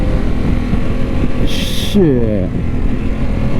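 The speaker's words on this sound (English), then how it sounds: "The pull on this bike is insane!" A Harley-Davidson Pan America motorcycle pulls hard under a constant roar of wind, with a brief rising engine note midway while a rider lets out a short exclamation.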